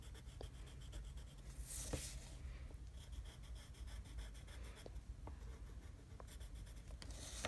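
A pencil scratches across paper while a cartoon hat is sketched, soft close strokes coming in short irregular bursts over a faint background hiss.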